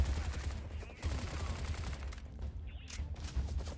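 Rapid bursts of gunfire crackle in the video game Bright Memory, a dense fusillade of shots running almost continuously with short gaps, moderately loud.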